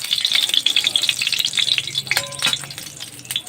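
Oil sizzles steadily in a wok during chicken cooking, a dense close frying hiss with occasional stirring clinks and scrapes, no voices.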